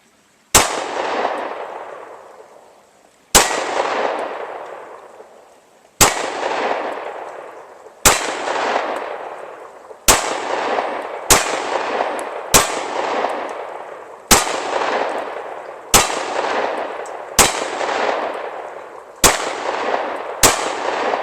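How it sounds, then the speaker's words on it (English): About a dozen sharp, loud pistol shots from a Taurus G3 crack one at a time at uneven intervals, each trailing off in a long echoing decay, with no voices. "Take a few more shots."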